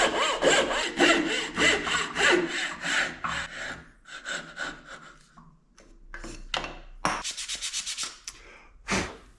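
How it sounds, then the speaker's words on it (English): A hand bow saw cuts through wood in quick, rhythmic strokes, loud and close, then slows to a few scattered rasping pulls and short bursts of sawing. "Then I use this bow saw, a coping saw would work fine too"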